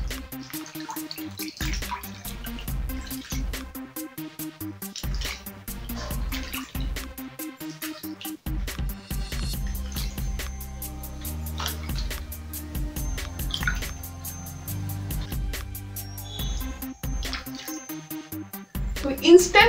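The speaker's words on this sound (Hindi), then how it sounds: "अभी मैं इसको धो के दिखाती हूँ" Water splashes and drips as a tomato face pack is rinsed off the face, with irregular close splashing and trickling throughout and a louder splash at the very end.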